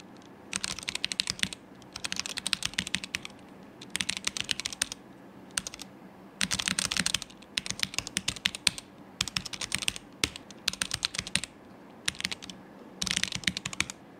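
Typing on a mechanical keyboard fitted with Gateron switches, a run of close, crisp keystroke bursts separated by brief gaps, steady and moderately quiet with no talk.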